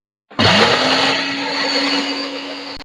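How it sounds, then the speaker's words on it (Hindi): A kitchen blender starts abruptly and runs loud and steady, whirring as it mixes cupcake batter with cooking oil and vanilla essence, then cuts off. "1 मिनट के लिए इनको हम मजीद ब्लेंड करेंगे।"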